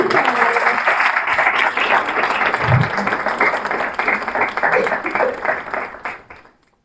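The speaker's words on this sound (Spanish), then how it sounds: "Eso se merece un aplauso." An audience at a talk applauds with dense, steady clapping for about six seconds before it fades out quickly.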